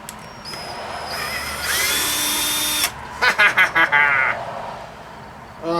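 A power drill fitted with a Torx bit on a taped extension backs out screws from a wet/dry shop vac, giving several short, close, loud whirring bursts in quick succession after a longer steady whine.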